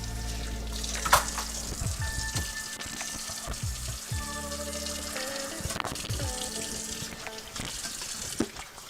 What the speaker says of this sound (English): So I always like to give them a good wash, or at the very least, give them a good rinse before we move on.